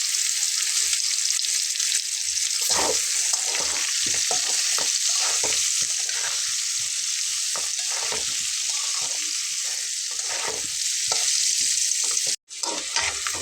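Dried chilli, whole garam masala and chopped onion fry loudly in hot oil, a continuous bright sizzle with frequent scraping stirs of a spatula throughout, close and steady.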